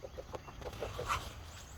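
A hen clucks from beneath a chicken coop, a quick run of soft, short clucks that is faint and muffled, with no one talking.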